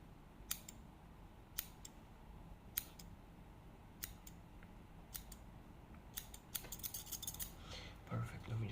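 Scissors point-cutting hair during a barbershop roleplay, giving crisp, close metallic snips at irregular intervals that grow faster and denser toward the end, over a quiet background.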